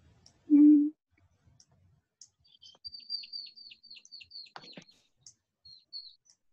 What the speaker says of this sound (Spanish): qué bonito pajarito se escucha